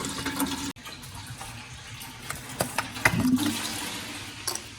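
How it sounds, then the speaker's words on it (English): Coolant drains from the radiator of a Subaru STI, a steady trickling and splashing of liquid into a container, with occasional clinks and knocks close by. "We're gonna pull that out and drain the radiator."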